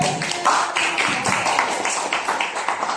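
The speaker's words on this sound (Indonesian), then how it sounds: "Tepuk tangan." Students in a classroom clap together, a lively burst of many hands with distinct, rhythmic slaps standing out, close and fairly loud for about three seconds.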